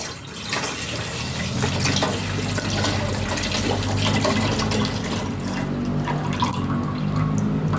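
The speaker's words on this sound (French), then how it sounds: "je vais mettre 1 litre de lait entier" A litre of whole milk pours steadily into a pot for chocolate cream, a continuous close liquid splash and gurgle lasting about eight seconds, with no talking.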